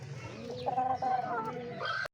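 Chickens in a backyard coop making a short burst of clucking and cackling calls, close and fairly loud, ending abruptly.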